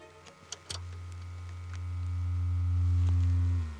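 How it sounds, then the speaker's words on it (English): A signal generator feeds noise and a sine tone through an amplifier to a loudspeaker: a few clicks as it switches on, then a steady low hum that swells gradually and cuts off at the end. "I've got here a generator to make a sine wave, some noise, and that's fed to an amplifier and into a loudspeaker."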